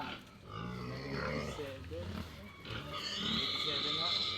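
Pig being weighed for sale at a farm, with loud grunts and squeals close by as people talk over the commotion.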